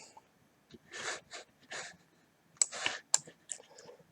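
A computer mouse gives sharp, close clicks in small clusters, with a few brief pauses between them, in an otherwise quiet room with no talking.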